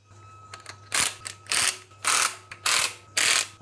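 A ratchet tightens bolts on a BMW ZF gearbox adapter for a JZ engine. Five loud, close bursts of rapid clicking come in an even rhythm, with a steady low hum underneath.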